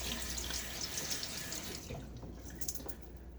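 Cold winter tap water runs steadily into a sink as a densely knotted shaving brush is rinsed under it, a close, continuous splashing stream that thins and drips toward the end.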